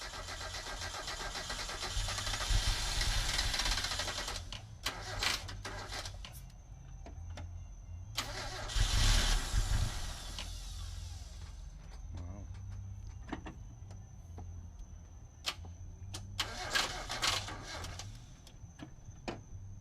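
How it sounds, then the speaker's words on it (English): A Mazda Miata engine cranks and turns over in short bursts of broadband noise, then settles into a low rumble, with clicks and a steady whine nearby. "finally it was time to turn the engine on"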